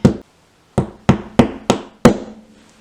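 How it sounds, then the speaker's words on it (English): A hammer taps a wall anchor into drywall six times, sharp short knocks with brief ringing, a pause after the first then steady, fairly close taps. "you take a hammer and just gently tap until it goes in."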